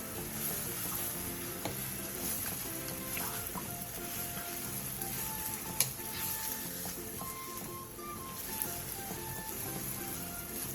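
Marinated meat sears in a lightly oiled pan over high heat, giving a steady, even sizzle with small pops and crackles, quiet and continuous, with no talking.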